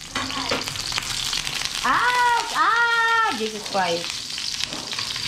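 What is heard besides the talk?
garlic frying in a pan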